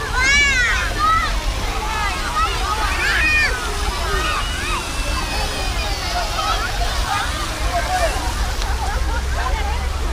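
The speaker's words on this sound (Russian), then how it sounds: "А мы не будем купаться, только не брызгайся, Поля." Water sloshes and splashes steadily at a free children's water park in Guangzhou, with children's voices and nearby chatter mixed over the continuous wash of water.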